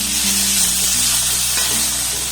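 Garlic and spring onion stems fry in a pan and are stirred now and then, a steady close sizzle with a few soft scraping knocks of the spatula, no talk.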